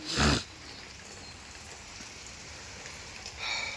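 Rain falls steadily in a continuous, even hiss, with louder bursts of noise at the beginning and again near the end.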